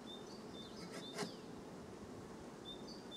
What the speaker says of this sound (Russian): Пчелики такие. Хорошие пчелики.